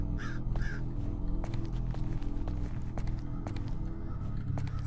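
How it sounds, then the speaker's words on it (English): Crow caws ring out twice near the start in a video game maze, harsh and fairly close, over a dense rumbling music bed with scattered footstep-like thumps. "it's a bird"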